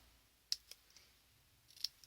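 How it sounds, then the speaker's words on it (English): Two sharp snips of small scissors cutting wrapping paper for a snowflake treat bag, each a crisp close click with a faint follow-up tick, set against near silence. "I'm going to move to my smaller scissors here, and I'm going to do exactly the same, cut up the centre"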